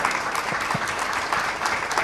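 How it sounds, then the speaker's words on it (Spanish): Audience at a 25th anniversary conference of Paraguay's largest education union applauding, a steady dense patter of many hands clapping alone and fairly close. "Otros fuertes aplausos porque somos la fuerza"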